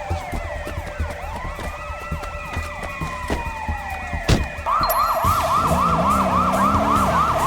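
Police cruiser siren in the video game Sleeping Dogs: a wailing siren sweeps up and down under car noise, then switches to a fast, loud repeating yelp pattern that holds steady to the end.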